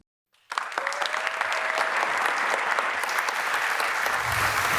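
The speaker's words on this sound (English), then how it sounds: "Another round of applause, please." An awards ceremony audience bursts into applause after a brief silence, then keeps up dense, even clapping at steady volume to the end, with no voices over it.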